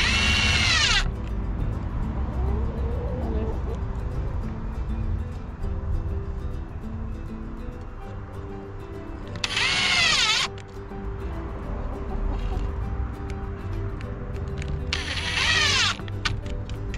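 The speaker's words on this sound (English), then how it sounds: "and just screw it in place." Cordless power drill driving screws into wooden pallet shelving in three short high-pitched whirring bursts, spaced several seconds apart, over a low room hum.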